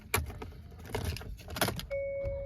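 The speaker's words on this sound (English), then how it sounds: "it is a key ignition, so you just put the key in the car to start it up" A 2021 Hyundai i30 is started with a key ignition: keys jangle and click in the lock, then a steady tone and a louder sustained engine hum rise near the end.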